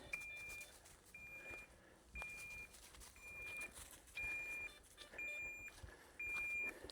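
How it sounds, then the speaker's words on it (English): A DJI Neo 2 drone's locator emits a regular electronic beep about once a second, steady and moderately faint, over a hiss of outdoor background noise. "Start flashing and beeping."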